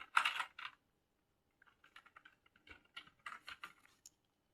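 Password typed on a computer keyboard, quiet close clicking keystrokes in short irregular bursts with gaps between them.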